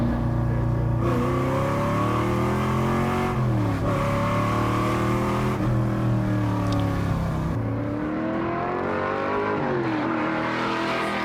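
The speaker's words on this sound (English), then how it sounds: "V8, bro. V8, no joke. It's a Corvette." A Corvette V8 revs repeatedly with a loud, close, deep engine note that climbs and drops in several rising sweeps with brief dips between them, and no voices over it.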